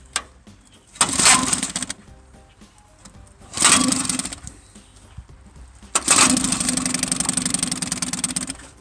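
A Johnson 3hp Sea-Horse outboard motor is pulled over and fires in three bursts, the first two short and sputtering out, the third catching and running on at a steady putter, loud and close.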